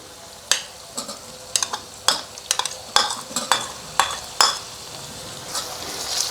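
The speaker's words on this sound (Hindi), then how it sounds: "अब हम इसमें टमाटर ऐड करेंगे जो कि मैंने 2 अदद लिए थे स्मॉल साइज़ के" Small chopped tomatoes stirred into a frying pan for an omelet, giving a steady sizzle broken by repeated sharp clicks and scrapes of a spatula against the pan, close and fairly loud, with no talking.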